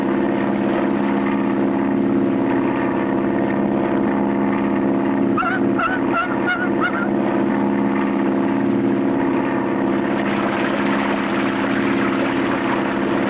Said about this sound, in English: the only way he can bring his plane down on the water with one float is to make a high-speed power landing